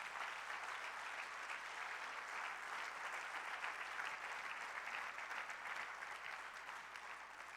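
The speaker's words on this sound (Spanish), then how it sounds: "Dele un aplauso al Dios Todopoderoso" A church congregation applauds steadily, with dense, sustained clapping that sounds somewhat distant and eases off slightly toward the end.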